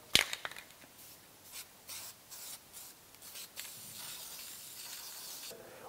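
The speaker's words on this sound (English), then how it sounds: "And we just simply spray." Short bursts of spray paint hiss over a masking tape stencil, several quiet sprays in irregular succession, close and alone.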